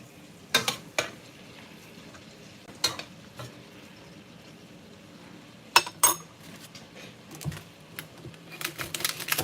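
A knife chops an onion on a cutting board in a home kitchen, sharp taps and clicks coming in irregular clusters, faint and close, with no talking.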